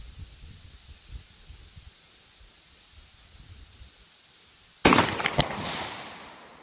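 A single sharp 12 gauge shotgun blast from a Winchester sabot slug cracks loudly after several seconds of quiet outdoor hiss, followed by a quick second report and a fading echo.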